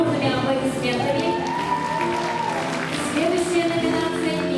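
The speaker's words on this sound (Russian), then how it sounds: "Провожаем бурными аплодисментами." Applause from the crowd at a school graduation last-bell ceremony sits under music with a sustained melodic tone and voices, moderately loud and continuous.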